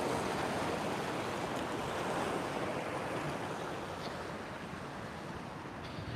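Choppy water sloshes around continuously in a broad, steady wash, with wind buffeting the microphone and no voices.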